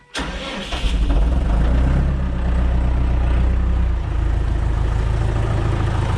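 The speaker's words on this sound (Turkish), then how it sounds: "her seferinde tek marşla alıyor yani hiç kızdırmalarında falan hiçbir sıkıntı yok traktörün" A tractor engine cranks briefly and catches, settling into a loud, steady diesel-like idle that rumbles on without pause.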